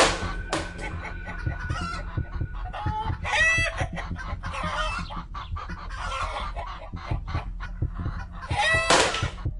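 Chickens cluck and squawk in agitated bursts, with a rooster's crow mixed in, fairly close and lively from a backyard coop at night, repeated calls overlapping throughout.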